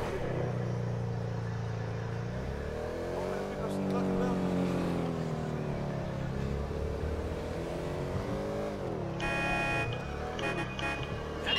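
A car engine drones steadily in GTA 5, its pitch rising and falling as the vehicle is driven. It stays loud and continuous throughout, with a brief electronic chirp near the end.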